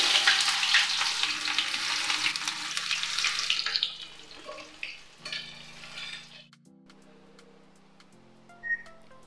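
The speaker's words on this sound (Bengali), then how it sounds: "আমি এখানে কুচনো পেঁয়াজ দিয়ে দিচ্ছি" Chopped onions drop into hot white and mustard oil, a loud close sizzle that gradually fades to quieter crackling and clinks, with no talking.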